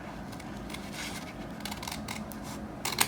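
Scissors snipping by hand to cut out a letter for a 30-ounce skinny tumbler project, close soft rasping cuts in an irregular rhythm, ending with a sharper snip.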